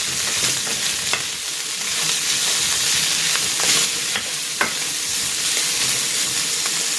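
Boiled, hand-shredded chicken sizzles and fries loudly in a pan for sotanghon guisado, with steady crackling and occasional scraping stir strokes throughout, no voices.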